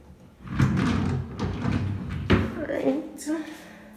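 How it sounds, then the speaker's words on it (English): Kitchen drawers in an empty apartment being pulled and slid open, giving a few rumbling slides and sharp knocks, close by and moderately loud, with a voice talking over them. "Pull this out here, and these ones like slide out like this."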